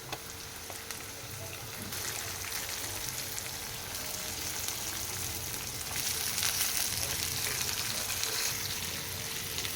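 Cut capsicum frying in a pan with a steady, dense sizzle that keeps up for the whole stretch, loud and close with no talking over it.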